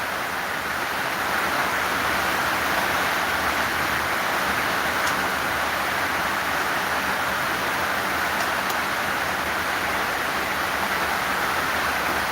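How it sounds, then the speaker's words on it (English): Heavy rain falls steadily outdoors during an African football tournament in Morocco, a dense, even hiss that stays loud and unbroken throughout with no voices. "to me here it's raining hard"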